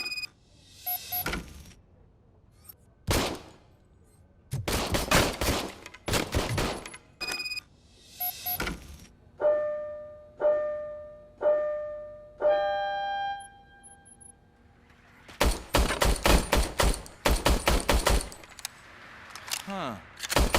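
An old service pistol is test-fired in the video game Robocop Rogue City, with sharp gunshots in single shots and quick bursts, a stretch of mechanical clicking and ringing tones midway, then a rapid string of shots near the end, with voices briefly heard.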